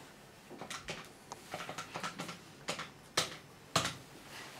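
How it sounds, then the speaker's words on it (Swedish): Telephone number being dialed by hand on a phone, a string of short clicky button presses in uneven rhythm, close and fairly quiet, with two sharper clacks near the end. "Nej, jag ska slå numret först."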